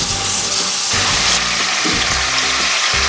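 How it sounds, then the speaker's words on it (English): Food sizzles and browns steadily in a hot pan for spaghetti, a loud continuous frying hiss broken by a few short clanks and scrapes. "So we'll let that kind of sizzle, start to get some browning going on"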